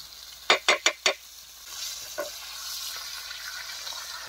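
Fish fries crisp in a pan outdoors in a forest, a soft continuous sizzle following four quick, sharp clacks of a utensil against the pan near the start, then a faint single tap.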